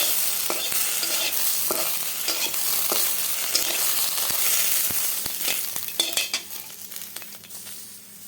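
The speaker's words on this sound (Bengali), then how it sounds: "খালি কড়াইয়ে ভেজে নিচ্ছি।" Green chillies dry-roasting in an empty hot wok crackle and hiss while a utensil scrapes and taps against the metal in irregular stirring strokes, close and fairly loud.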